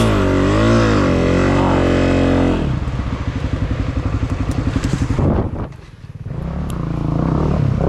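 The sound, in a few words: Honda CRF250F dirt bike engine chugging with mechanical failure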